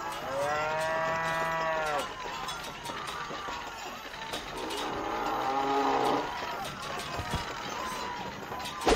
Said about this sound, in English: My three Nazi cow minions will take care of you.